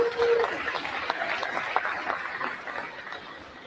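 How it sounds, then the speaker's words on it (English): Audience applause for the candidates at a Navajo Technical University forum, a moderate round of clapping that slowly fades over a few seconds, with a faint voice underneath. "Let's give a round of applause for all the candidates."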